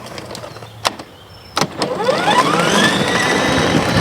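A Ryobi 40V HP battery-powered self-propelled lawn mower starts driving with a few sharp clicks, then a steady, fairly loud electric motor whine rises and holds close by, with no talking.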